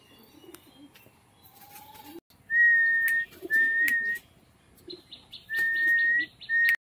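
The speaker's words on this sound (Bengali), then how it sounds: "দেখুন বন্ধুরা, এই পায়রা দুটোও কিন্তু সেলের জন্য আছে" A pair of pigeons for sale, with several bright, sustained whistling tones in short separate bursts over faint soft coos and light background noise.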